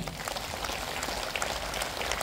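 Congregation clapping hands together during a Marathi-language church service, a dense, fast patter of many hands that runs steadily and evenly throughout, fairly close and loud.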